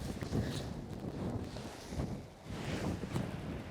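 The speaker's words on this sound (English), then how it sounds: "Got the south-southwest wind blowing it towards the hole." A south-southwest wind blows across a golf course, making a steady low buffeting rush against the microphone that swells and eases in gusts, with no talking.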